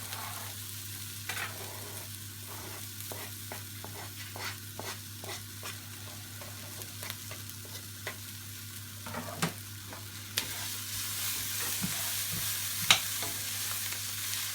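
Garlic added to onions browning in a pan for a vegetable curry, frying with a steady low sizzle under repeated stirring scrapes and taps, close and fairly quiet throughout.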